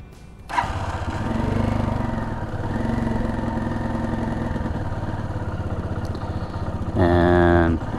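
The engine of a Janus Phoenix 250 motorcycle runs steadily on choke, a close, loud single-cylinder putter. It rises briefly near the end, with no speech over it.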